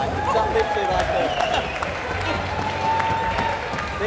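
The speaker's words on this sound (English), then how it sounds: "round of applause for Commentators" Audience applauding at a boxing event, scattered clapping from a crowd in an indoor hall, steady and moderately loud, mixed with general crowd noise.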